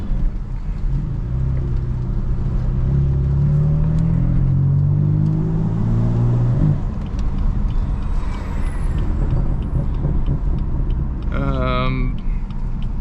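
A BMW M4 drives with a steady, loud road and engine roar from inside the cabin, a rising then falling engine tone, and a brief squeal-like whine near the end.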